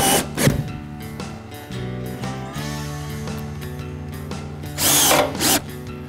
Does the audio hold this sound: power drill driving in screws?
yes